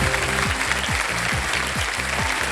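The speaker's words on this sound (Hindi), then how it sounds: "ताली पहले से ही बज गई है।" Studio audience applause on a televised quiz show, dense steady clapping throughout, mixed with a rhythmic low pulsing musical beat underneath.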